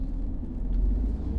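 A Jaguar XJ40 car pulling away after being shifted into drive, heard from inside as a steady low engine rumble that swells slightly midway, smooth and unbroken with no talking.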